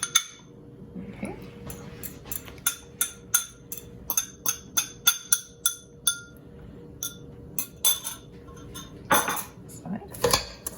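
Butter and sugar mixture for homemade Empire cookies being mixed in a bowl, with a utensil tapping and clinking against the bowl in a steady, irregular rhythm of sharp, close knocks.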